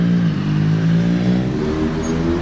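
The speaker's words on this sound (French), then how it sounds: "Ah non, c'était une moto, je me suis fait avoir." A motorcycle passes along a street in Monaco, giving a loud, steady engine drone that shifts slightly in pitch as it goes by, close and with no talking.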